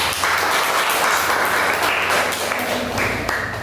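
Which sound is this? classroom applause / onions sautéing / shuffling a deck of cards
classroom applause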